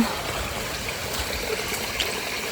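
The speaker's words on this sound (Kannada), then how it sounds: "ಈ ಹೊಳೆ ಇಲ್ಲಿಂದ ನೀರು ಈಚೆ ಪಾಸಾಗಿ ಬರುತ್ತೆ ನೋಡಿ ಈ ಥರ" Water of a small stream flowing past at a village grandmother's home, a continuous close trickling rush with no voices.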